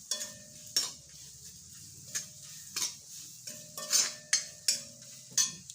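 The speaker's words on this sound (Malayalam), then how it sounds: "നമുക്ക് നമ്മുടെ നാളികേരം കുറച്ചിട്ട് നന്നായി ചോക്ക വറക്കാം" Grated coconut roasting in a pan while being stirred, a series of sharp scraping clinks of a utensil against metal every second or so over a faint steady sizzle, close and alone.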